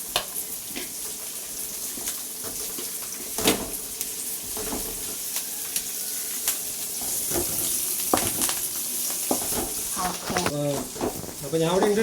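Sliced onions sizzle steadily in a hot pan, with a bright continuous crackle and occasional scrapes and clinks of stirring near the end.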